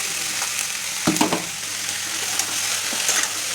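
Onion, garlic and tomato paste frying in a pan, giving a loud continuous sizzle with a few brief scraping stirs partway through.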